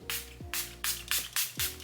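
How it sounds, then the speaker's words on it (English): A cheap setting spray bottle pumped in five quick, evenly spaced bursts, each a short airy hiss, close and clear over a faint background hum. "Okay, anyways, but let's just spray it and see."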